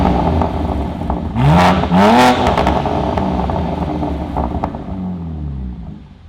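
BMW G87 M2 with a newly fitted aftermarket exhaust, heard from behind the car as it revs sharply two or three times, loud and close, with swelling blips that fall back to a burbling idle.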